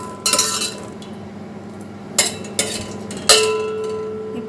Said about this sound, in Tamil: சர்க்கரை போட்டு நல்லா கிண்டி விடணும்.